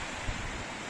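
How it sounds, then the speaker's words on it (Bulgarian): Constant wind rushes over the seashore with surf washing beneath, a steady, moderately faint blend with a brief low buffet partway through. "вятъра, който духа почти постоянно"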